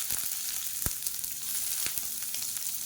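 Sliced medium onion frying in hot oil with cardamom, cinnamon and cloves in an Indian lunch dish, a steady close sizzle with occasional sharper pops and a soft stirring knock.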